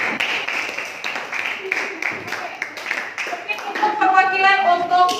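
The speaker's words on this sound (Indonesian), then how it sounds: "Sekali lagi tepuk tangan untuk kelompok 3" Students clapping for a group in a classroom, a few scattered handclaps at first, then a voice speaks over the end.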